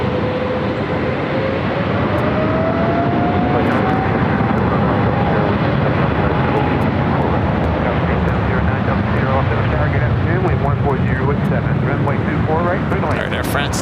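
An Air France airliner rolls down runway 24 left at LAX, its engines a loud, sustained roar with a rising whine, while voices talk over the noise throughout.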